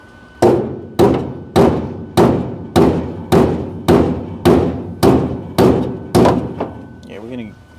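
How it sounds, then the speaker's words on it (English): Eleven steady hammer blows ring out at a regular pace during work on a project car being readied for a drag-and-drive event, each strike sharp and close, with a brief muffled rattle after the last one. "So now I can start hammering this?"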